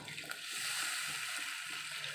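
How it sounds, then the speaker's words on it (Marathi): Water poured into masala frying in oil for a makhana curry, a steady close rushing gush with a faint hiss. "मस्त असं तेल सुटलं आहे मसाल्याला आता आपण पाणी टाकू"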